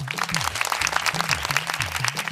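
Children and audience at a Yoruba game show clap steadily and densely for a contestant, the applause running over a looping low musical tone.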